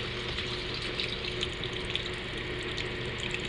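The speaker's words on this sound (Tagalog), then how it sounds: "So ayan, nilagyan natin ng tubig." Water from a hose fills a Hino 700 series truck, a steady, close rushing and splashing flow that stays even throughout with no talk.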